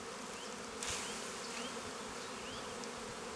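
Honeybees buzz around an open beehive as beekeepers combine colonies, forming a dense, continuous drone close by with individual bees whining past.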